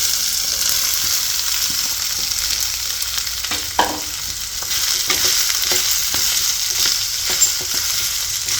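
Samosa stuffing of potatoes with turmeric, red chili powder and green chili sizzles steadily in a pan, a constant close frying hiss with occasional small pops and scrapes and no voices.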